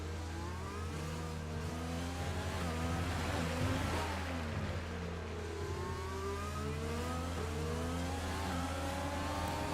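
A Formula-style racing car engine in a PC racing game revs and accelerates down the straight at the Mexico circuit, a continuous loud whine with rising and falling pitch sweeps, heard alone without talk.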